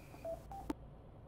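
A short run of telephone dialing tones, a few brief beeps within about a second, quiet and clean, ending in near silence.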